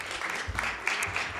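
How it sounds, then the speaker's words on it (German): Audience applause at an open-stage evening in a casino venue, a short, soft burst of clapping heard from a distance. "Herzlichen Applaus."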